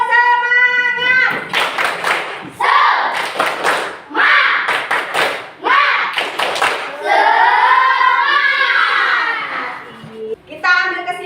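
A classroom of children does a rhythmic spirit clap, chanting in unison between crisp patterned bursts of claps, with a teacher's voice at the start and end.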